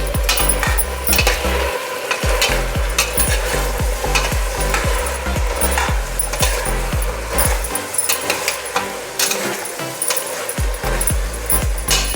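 A spoon stirs spice powder into a paya soup of goat trotters in a pressure cooker, making repeated close scraping and clanking strokes over a constant sizzle, loud and rhythmic, with no speech.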